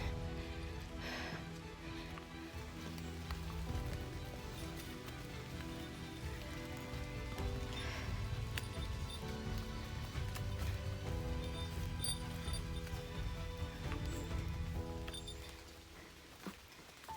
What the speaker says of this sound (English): I think it's raining again, but I'm not getting wet, so I'm just gonna hike on.